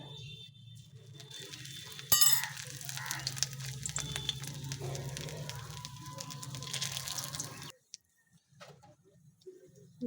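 Crushed cardamom sizzles in hot oil in a wok for an egg and pea curry, a continuous close crackling hiss that runs for several seconds, then stops abruptly into near quiet.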